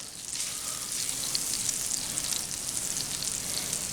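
Butter and oil sizzle on a hot Blackstone griddle before thinly sliced tri-tip goes on, a constant dense frying crackle at close range with no talk.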